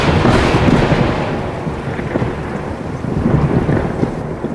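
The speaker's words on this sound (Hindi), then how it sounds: "बारिश लगातार हो रही थी और बिजली भी कड़क रही थी।" Heavy rain pours during a village thunderstorm while deep thunder rumbles roll through, loud and close at first and then easing slightly into a steady downpour with lower rumbling underneath.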